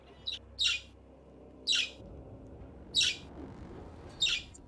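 A bird sings alone in five short, bright, high chirping bursts spaced about a second apart, moderately close, over a faint low background hum.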